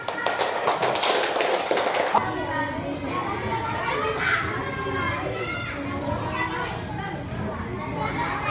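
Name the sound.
children clapping hands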